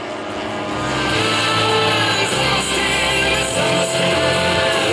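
An airshow airplane roars steadily overhead while flying inverted passes, a loud continuous engine drone that stays close and strong for the whole stretch with no voices.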